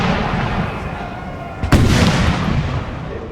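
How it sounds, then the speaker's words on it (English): A cannon firing a cannonball in a Napoleonic-era battle in Napoleon: Total War, a single sharp boom standing out from a dense, continuous roar of battle noise and gunfire. "Here comes a cannonball"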